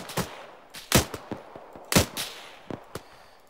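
Rapid gunfire in the military game Arma 3 as a section engages enemy contacts on a hillside. Loud, sharp shots come in irregular bursts and clusters, some cracking close and others sounding softer.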